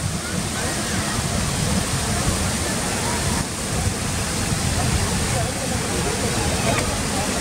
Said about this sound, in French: Là, on est au plus près de la cascade.